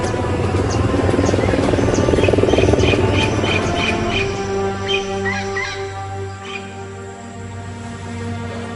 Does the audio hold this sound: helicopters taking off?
yes